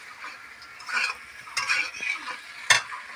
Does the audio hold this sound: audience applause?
no